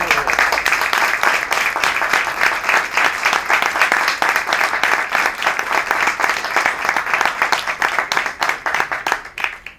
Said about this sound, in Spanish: que el aplauso era para ti también